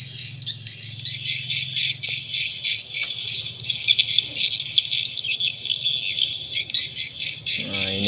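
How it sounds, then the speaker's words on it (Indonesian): A recorded swiftlet lure call named ST Rajawali by Atax Walet plays back as dense, continuous high chirping and twittering, steady and fairly loud, with a low hum beneath and no talking. "ini original teman-teman ya, suara tarik Rajawali, ST Rajawali."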